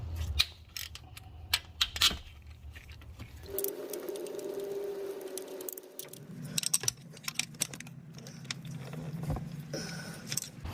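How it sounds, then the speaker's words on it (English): A 10mm socket wrench cracks loose a car's chain tensioner bolt, giving close, quiet metallic ticks and clinks, with a brief steady whir midway and light rattling afterward; no one speaks. "I'll just use a 10mm socket, crack it open."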